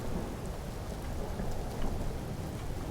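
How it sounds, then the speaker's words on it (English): Stormy weather in the Empyrion Galactic Survival video game, with heavy steady rain and rolling thunder forming a dense, loud roar throughout, and no talk. "It's getting quite stormy out, actually."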